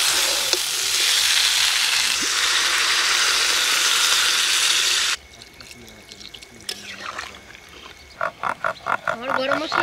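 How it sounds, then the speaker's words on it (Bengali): Water is poured into a pan of cauliflower and egg curry in a village kitchen, a loud steady rushing splash for about five seconds, followed by softer bubbling and stirring clatter. "হালকা করে নেড়ে দিয়ে দেবো জল।"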